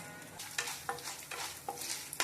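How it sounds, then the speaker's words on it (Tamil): Oil sizzles and crackles as urad and chana dal fry in a pan for coriander chutney, with a few sharp pops and stirring scrapes, close up and steady. "ரெண்டும் சேர்ந்து கொஞ்சம் பொரியட்டும்."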